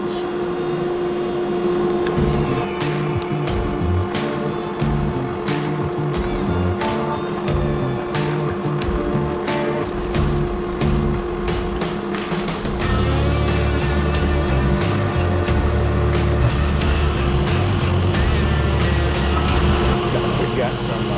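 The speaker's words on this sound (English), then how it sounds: "Woodworking going on in the background today, so you get the sounds of the wood shop" Wood shop machinery runs in the background as a steady droning hum beneath someone talking nearby during the disassembly of a John Deere 430 two-cylinder engine.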